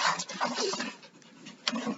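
A dog pants rapidly outdoors on a hot day, the quick rhythmic breaths sounding close, fairly loud and continuous, with a brief louder burst near the end.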